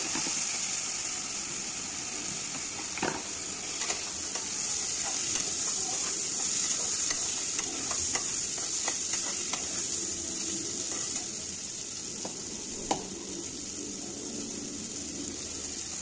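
Peas and mixed vegetables for Mumbai-style pav bhaji hiss and sizzle steadily in a pan, a continuous close frying sound with occasional faint clicks and knocks.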